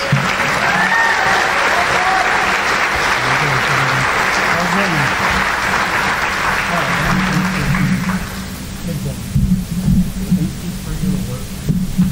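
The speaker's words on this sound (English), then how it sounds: "Go ahead and give them a round of applause." Audience applause at a 2021 high school academic awards program, a sustained dense clapping from a crowd that holds steady for about eight seconds, then thins out and fades into scattered claps with low room hum.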